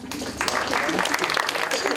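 Brief burst of audience applause at a Polish children's awards ceremony for palm decorations, dense clapping mixed with a voice over a loudspeaker.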